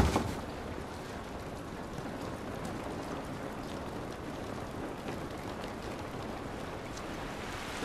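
Steady rain falling in the video game The Last of Us Remastered, an even, unbroken hiss of drops that stays at one moderate loudness throughout with no voices.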